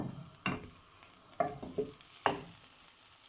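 Fish frying in a heating pan gives a steady sizzle, broken by a few sharp scraping stirs from a utensil, all close and without talk.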